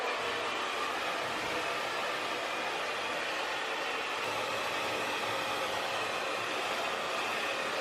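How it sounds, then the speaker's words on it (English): Steady broadband whoosh of a hair dryer blowing over skin to dry freshly applied self-tanner, loud and constant for the whole stretch with no talking. "So I usually will blow dry just to make sure it's like super, super, super dry before I put on any clothes."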